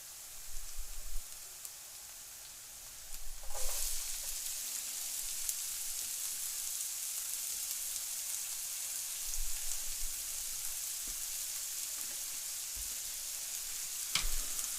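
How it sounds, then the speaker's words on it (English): Peppers and onions frying in a pan with garlic, a steady, fairly quiet hiss of sizzling oil throughout, with an occasional faint clink of a utensil and no voices. "let's go ahead and throw the peppers and onions in there"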